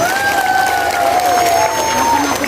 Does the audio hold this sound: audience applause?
yes